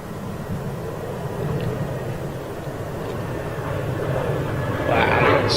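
An airplane departs Manchester Airport in a steep climb, its steady broadband engine roar filling the scene and swelling louder near the end.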